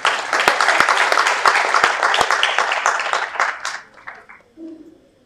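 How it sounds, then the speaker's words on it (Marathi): An audience at a poetry gathering claps together, a crisp dense burst of many hands at close range that stays strong for a few seconds, then thins to scattered claps and fades out. "याबद्दल मी टाळी वाजवतो"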